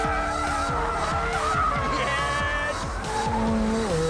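McLaren 720S drifting, tires squealing in long wavering shrieks over a loud, revving engine, sustained and close, with a brief shout of excitement from the driver.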